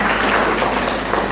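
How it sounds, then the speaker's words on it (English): Audience applause at a preschool class presentation in Lucknow, a loud, dense burst of clapping that stays steady throughout the short stretch, with no speech over it. "Let's encourage them with a huge round of applause."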